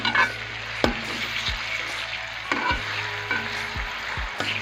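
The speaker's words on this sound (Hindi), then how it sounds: "दो मिनट इसे अच्छे से फ्राई करना है।" Onions frying in hot ghee in a pan, a dense steady sizzle with occasional stirring knocks and clinks of a spoon against the pot, close up.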